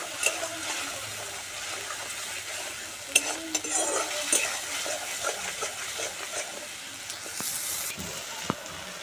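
Ginger fries in a pan at a moderate level, a steady sizzle broken by frequent scraping and clinking stirs, with a few sharper knocks of a utensil against the pan.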